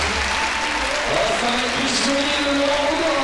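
Spectators at an IFSC women's combined climbing competition in Toulouse applaud steadily throughout, a broad, even wash of clapping with a few voices rising over it.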